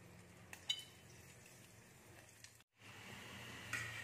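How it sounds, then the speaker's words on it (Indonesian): Sesame-coated sweet potato and glutinous rice dough frying in hot oil, a faint steady sizzle with a few light metallic clinks of utensils and a brief dropout partway through. "Kita goreng yang wijen ya."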